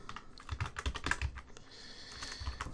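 Quick bursts of keystrokes clatter on a PC computer keyboard, close and fairly quiet, with a short pause midway before the typing resumes.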